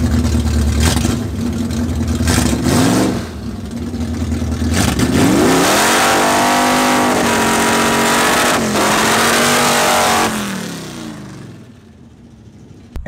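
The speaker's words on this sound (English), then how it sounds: "it broke a rocker arm halfway through the burnout" A car with a four-speed manual transmission does a stationary burnout, its engine roaring loud and steady before a rocker arm breaks midway. The engine then stumbles on a dropped cylinder, its pitch sagging and rising unevenly before fading out.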